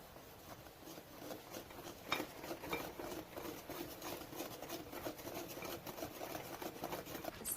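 A utensil stirs and mixes sugar-free carrot cake ingredients with vanilla extract in a bowl, making a quiet, continuous scraping and rubbing sound in steady, rhythmic strokes.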